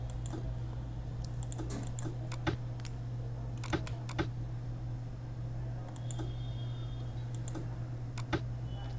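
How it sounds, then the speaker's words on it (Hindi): Keys on a computer keyboard are tapped in an irregular series of sharp clicks during a typing lesson, fairly quiet and close, with a steady low hum underneath. "तो अब मैं शुरू करूँगा इस पर टाइपिंग करना।"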